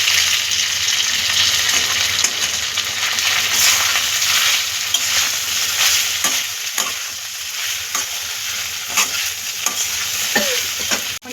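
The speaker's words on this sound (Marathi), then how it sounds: "आपण इडली परततोय" Pieces of ready-made idli are stirred and fried in a spice masala in a pan, giving a steady loud sizzle throughout with scattered scrapes and taps of the spoon against the pan, and nobody speaking.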